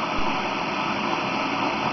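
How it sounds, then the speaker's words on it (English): An electric kettle boiling at full power makes a steady broadband rushing roar with a constant high whine, continuous and fairly loud with no voices. "I can hear the kettle boiling up now."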